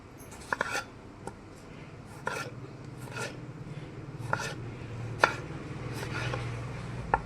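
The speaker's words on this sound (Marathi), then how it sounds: "टमाटर कापून घ्यायची बारीक." A knife finely chops tomatoes on a board for egg masala curry, giving quiet, irregular taps and soft scraping strokes at close range with no talk.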